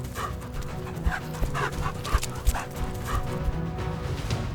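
Several African wild dogs panting and letting out short yips and whimpers, close by, with scuffling noise underneath.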